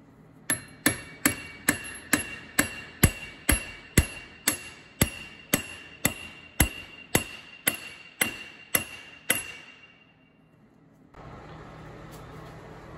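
About sixteen heavy, ringing blows from a five-pound sledge strike a socket on a bolt of an Allis Chalmers WD tractor's rear axle at a steady pace, then stop, leaving low background noise.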